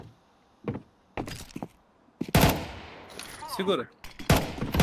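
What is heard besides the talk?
gunfire in video game Counter-Strike 2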